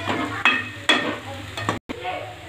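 Sago upma with added peanut powder being stirred in a pan, a steady scraping and soft sizzle with a few sharper spoon knocks against the metal and a brief drop to silence near the end.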